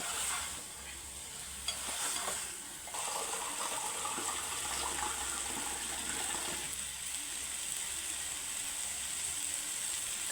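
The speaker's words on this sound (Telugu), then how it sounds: "కర్రీకి సరిపడా వాటర్ అయితే వేసుకుందాం అండి" Water poured into a sizzling chicken and potato curry: a gushing pour over hissing frying, followed by stirring, close and moderately loud, with no voices.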